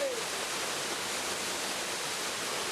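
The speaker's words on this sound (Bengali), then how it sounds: "এখানে পেয়ে যাবে পুরো ঝর্ণাটা" Waterfall at the Mahakal temple in the Dooars gives a steady, dense rush of falling water that fills the whole stretch evenly and never lets up.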